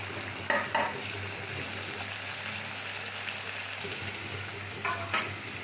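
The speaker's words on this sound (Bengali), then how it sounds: "এই চালটা ভাজা ভাজা করছি মশলার সাথে" Soaked rice frying with spices in a pan for vegetarian pulao, a steady sizzle with a couple of sharp spoon scrapes and stirring clinks near the start and again toward the end.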